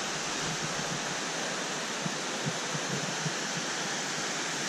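A waterfall beside a steep walking track on the Overland Track gives a constant hissing wash of falling water, with faint footsteps or knocks near the listener.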